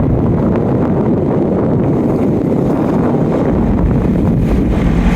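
A sailboat motor sailing on its mainsail along the coast from Trial Bay to Coffs Harbour, heard as a constant loud roar of wind buffeting the microphone blended with a low engine rumble, unbroken and without talk.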